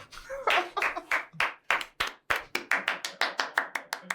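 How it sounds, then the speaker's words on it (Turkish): A single pair of hands claps in a steady, even rhythm, about fifteen crisp claps one after another at moderate loudness, with no talking. "Arkada alkışlıyor."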